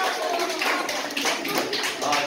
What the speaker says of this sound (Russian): А мы хлопаем